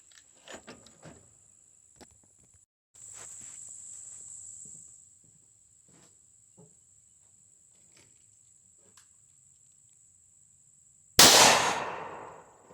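Flare gun firing a mini shell loaded with number 7 shot, one sharp loud bang near the end that rings off, preceded by quiet clicks and handling with insects buzzing in the background.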